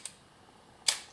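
An Olympus OM-2 film camera shutter fires on a 1-second exposure: a crisp mechanical click opens it, quiet follows, then a louder close click shuts it about a second later, near and isolated.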